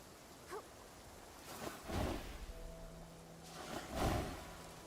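Rain in the video game Infinity Nikki, a soft steady patter with gentle swells of heavier falling water and a faint low rumble, quiet and ambient with no voices.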